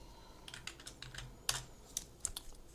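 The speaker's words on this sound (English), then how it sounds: "So press tab and type multi" Quick, uneven bursts of computer keyboard typing, close and fairly quiet, a few keys struck harder than the rest, with no talk.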